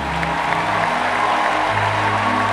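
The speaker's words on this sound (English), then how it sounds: "Keep clapping till I ask you to stop." A church congregation claps steadily and loudly together, a dense continuous wash of applause with a low hum underneath and no pauses.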